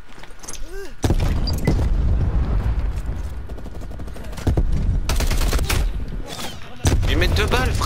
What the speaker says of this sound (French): le mec il joue avec l'arme à rafale, il met une rafale